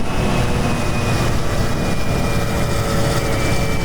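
Steady, loud engine drone of a motorbike being ridden, a constant close hum filling the whole stretch with no pauses.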